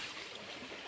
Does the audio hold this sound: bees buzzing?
no